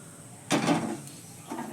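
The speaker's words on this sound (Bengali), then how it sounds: "আমি এবার কড়াইটা বসিয়ে দিচ্ছি।" A metal kadai wok is set down on a kitchen stove, giving a sharp clank followed by a softer second knock a second later, close and fairly quiet.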